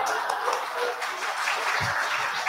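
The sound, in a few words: audience applause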